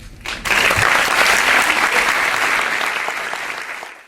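An audience bursts into sustained applause after a brief pause, dense and loud clapping that holds steady for several seconds before slowly thinning out.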